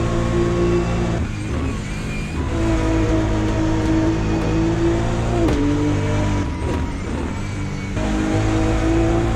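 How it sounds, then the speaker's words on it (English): A BMW GT race car in a qualifying session at the British Grand Prix, its engine note droning and stepping through downshifts as it brakes, loud and continuous with no talk. "And you hear just the downshift of the BMW as Andy Rees is trying to push this car"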